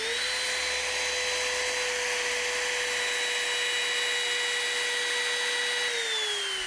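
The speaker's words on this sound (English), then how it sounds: "Now we've routed for the cover plate." Trim router cutting a pickup cover plate cavity in a guitar body, a steady high-pitched motor whine held at constant speed, then dropping in pitch as it spins down near the end, close and loud, no talking.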